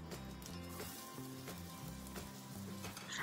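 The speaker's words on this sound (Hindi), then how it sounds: "जो राई है या सरसों जो भी आपने ऐड की है वो तड़कने लगेगी, इस तरह से आवाज आने लगेगी" Mustard seeds and fenugreek crackle and sizzle in hot oil while being sautéed for a sweet-sour raw mango chutney, a dense, steady spitting hiss that fills the whole moment with no voices over it.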